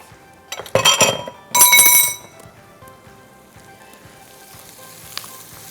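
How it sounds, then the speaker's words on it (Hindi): Onions frying in hot oil in a home kitchen pan, with two loud bursts of sizzle early on that fade to a quieter, steady crackle with a few clinks. "प्याज को हमें लाल करना है"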